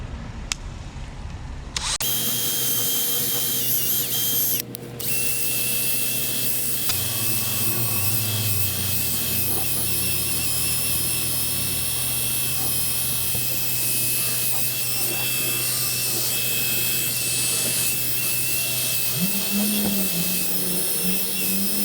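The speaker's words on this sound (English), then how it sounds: "you want to just kind of get it buffed in quick before it dries on the paint" Power buffer polishing a car headlight with compound, a steady loud motor whine running nearly throughout, its pitch shifting as the pad works against the lens, with no talk.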